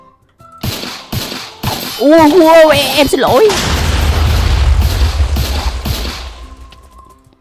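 Rapid gunfire from a weapon in a Demon Slayer–themed survival video game, a dense sustained burst of loud shots following a few sharp single reports, with someone speaking briefly over it.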